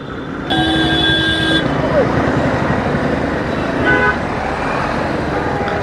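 Cars and vehicles stuck in a traffic jam on a Kolkata road, with steady near engine and road noise and a bright horn toot early on, followed by fainter horn beeps later.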